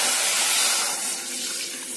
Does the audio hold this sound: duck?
no